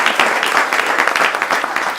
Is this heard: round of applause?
yes